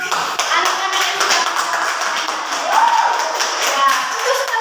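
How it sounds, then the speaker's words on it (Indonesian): Schoolchildren in an Indonesian classroom clap for their classmates, a continuous patter of small hands that carries on through the whole stretch, with some voices mixed in. "tepuk tangan untuk anak-anak ini"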